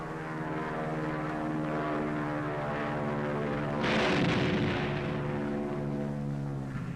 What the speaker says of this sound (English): the pilot shoots his bombs into the target and takes evasive action